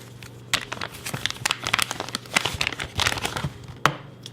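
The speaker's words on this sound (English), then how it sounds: "It comes in a little plastic bag like this." A small plastic bag crinkles around a County Comm Maratac copper CR123 flashlight, producing close, irregular crackling and rustling bursts as it is handled, with no talking.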